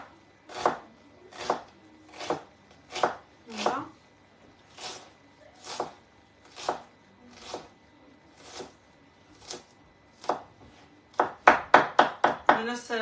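Onion being chopped into small pieces with a knife on a board, steady single knife strikes at an even rhythm, then a quick burst of faster chops near the end, close and clear.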